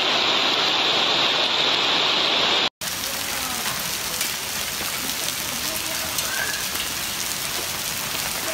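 Violent hailstorm in northern and central Italy, golf ball-sized ice lashing down as a dense, steady roar of impacts that continues, close and loud, on both sides of an abrupt cut.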